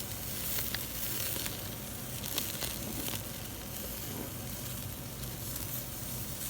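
Kebabs on a very hot outdoor summer grill, producing a steady close hiss and crackle of sizzling meat with scattered pops, fairly faint overall and without talk.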